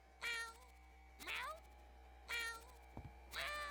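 A cat in the video game YIIK meows four times at an even pace, each call clear and prominent over a low steady hum.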